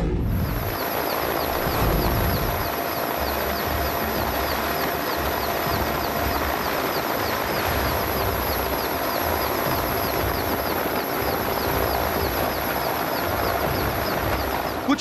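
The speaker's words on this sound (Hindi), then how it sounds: "सेना का हेलीकॉप्टर दिखाई दे रहा है" An army helicopter drones steadily over flooded Madhya Pradesh after torrential rain, its rotor chop and engine whine forming a continuous loud hum with no voices.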